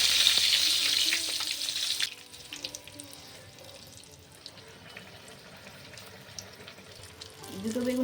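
Eggplant slices dropped into very hot oil in a pan, giving a loud bright sizzle that cuts off after two seconds, followed by quieter cooking sounds and faint background noise.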